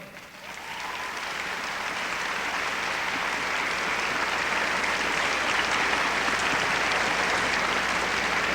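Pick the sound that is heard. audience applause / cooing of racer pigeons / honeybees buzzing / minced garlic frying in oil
audience applause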